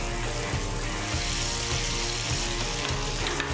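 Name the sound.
morel mushrooms sautéing in hot olive oil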